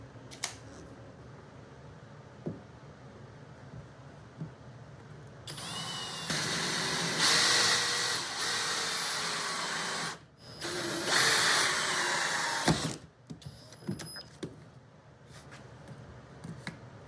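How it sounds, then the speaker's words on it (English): A loud, steady mechanical whine of a power sander on wood with shop vacuum suction on a downdraft table runs for several seconds, pauses briefly, then resumes before stopping, with clicks and handling around it. "while I'm sanding I can actually use it to collect that sawdust"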